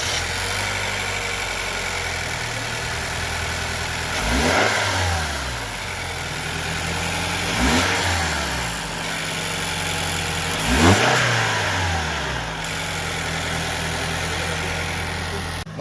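Car engine fitted with a modified K&N intake filter idles then revs three times in succession, each rise and fall clearly audible over a steady mechanical hum, close and loud.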